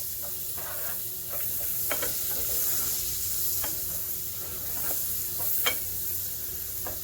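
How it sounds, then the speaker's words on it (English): Mushrooms and onions sizzle steadily in melted butter in a pan, with a continuous bright hiss and occasional scrapes and clicks of stirring, close and alone without talk. "you're going to saute the mushroom and onions until pretty much all the liquid in the pan is gone"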